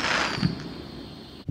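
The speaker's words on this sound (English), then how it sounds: "fireworks," Crackling, popping bursts of Fourth of July fireworks with a brief low thump, fairly distant, fading out abruptly near the end.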